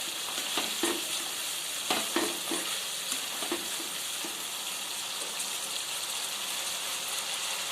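Masala spice paste for paneer chana masala sizzles and fries in hot oil in a home kitchen as it is sautéed, a close, continuous hiss with intermittent scraping stir strokes from a utensil against the pan.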